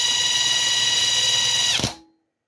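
A Ford Escort MK1 alternator on a bench test whirs with a steady high-pitched mechanical whine, then spins down and stops abruptly, loud and close with no speech.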